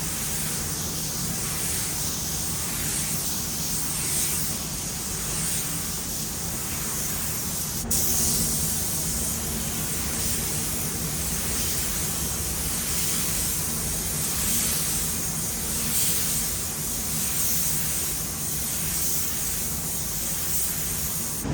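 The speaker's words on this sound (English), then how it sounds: "We're gonna spray the mid down now. Again, 14 PSI." A paint spray gun set to 14 PSI lays down a mid coat with a continuous, even hiss, close and steady, broken only by one faint click partway through.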